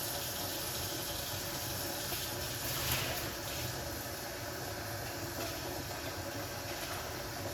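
A pot of water for bay leaf tea is boiling, giving a steady, broadband bubbling hiss that holds constant and fairly faint, with no speech.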